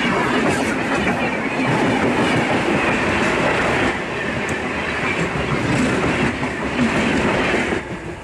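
A Bengaluru–Guwahati superfast express runs right alongside, heard from a neighbouring moving train, as a loud, continuous rumbling roar with rhythmic clickety-clack of wheels on rail joints throughout.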